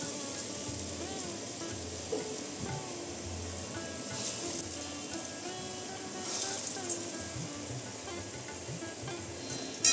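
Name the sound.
lentil fritters (bora) sizzling while deep frying in oil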